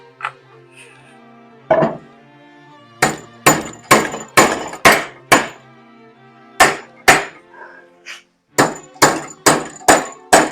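A hammer strikes a metal panel again and again during welding repair on a 1971 VW Super Beetle, loud ringing clangs in uneven bursts with short pauses between, close up.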